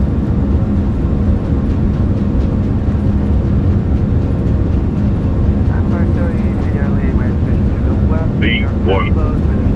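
Airbus A340-300 engines (iniBuilds model in the MSFS2024 flight simulator) at takeoff power give a loud, continuous broadband roar filling the whole clip, with a voice briefly heard over it near the end.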